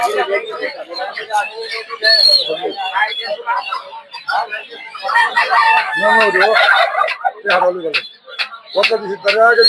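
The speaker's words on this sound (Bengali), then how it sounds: "বড় সাইজের কার্কি মুরগি দেখতে পাচ্ছেন" Turkeys and chickens at a poultry and bird market in Narsingdi, with gobbling, crowing and clucking overlapping loudly and close, alongside people talking in the market.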